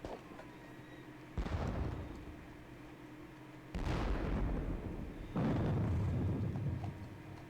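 Distant long-range artillery fire in the Battle of Friedland war game, three separate deep booms with rolling decay over a quiet background.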